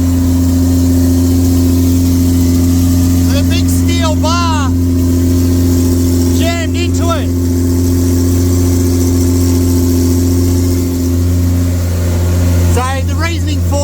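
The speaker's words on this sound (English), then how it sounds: "We've just got the car running" A VJ Dodge ute engine idles steadily through extractors, a loud constant low rumble with a deep droning hum, while people talk nearby in short bursts over it.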